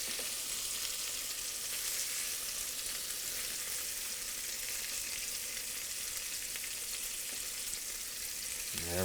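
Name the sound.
lingcod pieces frying in a pan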